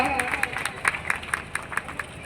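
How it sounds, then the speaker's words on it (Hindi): An audience claps to welcome an award recipient at a forest festival ceremony, a quick run of sharp, separate claps heard close and steady under a murmur of crowd voices. "जोरदार ताली से स्वागत किए इस अविस्मरणीय क्षण का"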